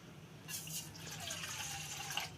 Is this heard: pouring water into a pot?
yes